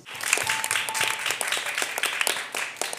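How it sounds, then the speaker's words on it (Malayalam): Children clapping for the angel of the episode on a children's TV show: a quick, uneven patter of many small hands, moderately close, with a brief voice partly under it. "ഒരു ക്ലാപ്പ് കൊടുത്തേ"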